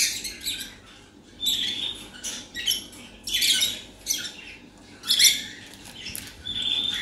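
Pet birds in a pet shop chirp and twitter in repeated bright bursts, moderately close and lively, with soft rustling between calls and no talking.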